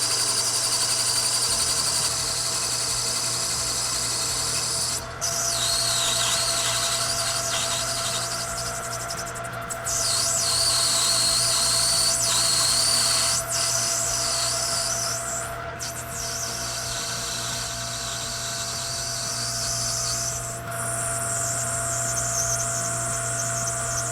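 Steady machine hum with a high whining cut that swells and drops in several passes, with brief breaks, as a lathe machines a metal part for a bicycle frame alignment gauge.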